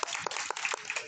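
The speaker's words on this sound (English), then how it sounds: "round of applause for her" Audience at a Ponycon 2023 convention panel claps steadily, a dense patter of many hands with a few sharper individual claps standing out, sustained at moderate loudness throughout.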